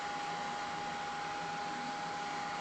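A mini soldering fume extractor fan runs with a steady, even whirring hiss and a faint constant whine. It is close, moderately loud and uninterrupted, with no talking.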